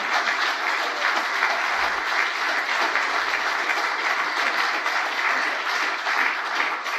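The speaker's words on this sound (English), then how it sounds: "we made an exception for applause" Applause fills a meeting room, a dense, steady clatter of many hands clapping without a break and without talk.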